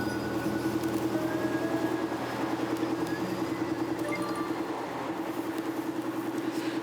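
Inside a moving subway train, a steady low rumble and rattle of the running carriage carries on without a break, with no voices on top.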